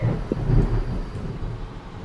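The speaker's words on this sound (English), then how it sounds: "Did you hear the thunder?" A deep, rumbling thunder clap rolls through a Roblox Lumber Tycoon 2 game world, loud and low, sustained for a couple of seconds with no talk over it.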